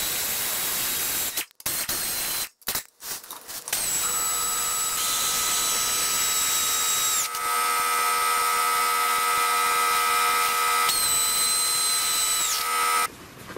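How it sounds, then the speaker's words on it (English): A power tool threads bolts onto a Chrysler/Dodge AAM 9.25 front differential cover in a workshop, running in long, loud, steady whirring bursts after a few short starts, with a high whine that dips as each bolt seats. "I'm gonna go ahead and thread all these bolts on"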